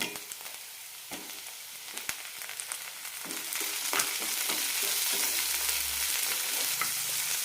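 Onions sautéing in a pan for a horse gram curry, with tomato about to be added: a steady soft sizzle with occasional stirring clicks and scrapes, close up and without talk.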